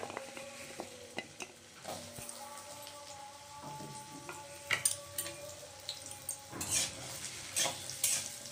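Cut potatoes frying in mustard oil in a kadai, a soft sizzle with scraping and clinks of stirring that grow busier and louder toward the end, over a faint steady background tone.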